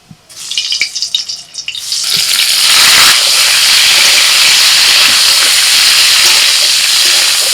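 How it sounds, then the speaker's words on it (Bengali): Cauliflower pieces frying in oil in a pan: a few scrapes and sputters at first, then a loud, close hiss of sizzling and steam swells up and holds steady to the end. "এবার ফুলকপিটা ভেজে নেব"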